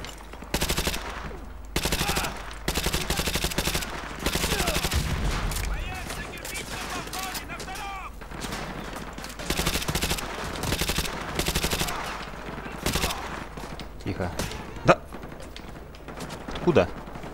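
Gunfire from a weapon in Call of Duty: Modern Warfare 2 Remastered, a hostage-rescue mission: repeated loud bursts of automatic fire and single shots crack through the whole stretch, with a player talking over the shooting.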